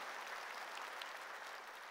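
Steady, dense clapping from a church congregation at a revival service fills the whole stretch, fairly soft and even, with no voices on top.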